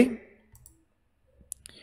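A couple of short, faint computer mouse left-clicks during a graphic design software lesson, spaced apart against near silence.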